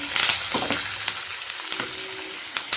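Onion and garlic sauté in oil in a clay pot, giving a steady, close sizzle with scattered clicks and scrapes from stirring.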